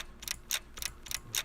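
Light, rapid rattling clicks from a shopping cart, field-recorded on an iPhone as a sample, come in irregular clusters close by.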